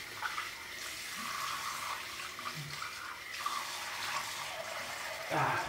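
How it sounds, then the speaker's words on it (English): Running cold water splashes on the face before a shave, a steady faint tap-and-splash wash with a few louder splashes and no talk. "I'm gonna do cold water shave today."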